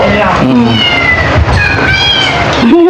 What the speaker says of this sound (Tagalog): Kukit na mga pusa natin.